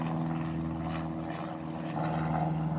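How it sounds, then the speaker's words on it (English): An airplane drones overhead outdoors, a steady low rumbling hum that holds at moderate loudness with no talking. "listen to the plane"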